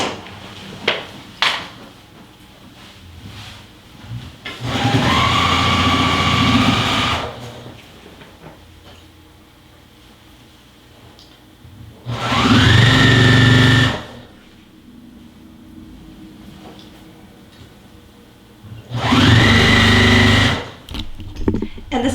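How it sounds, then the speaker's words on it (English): Loud, steady mechanical whirring of a sewing machine running in three separate bursts of a few seconds each, with quieter pauses and handling noises between. "And the sewing machine is like super loud."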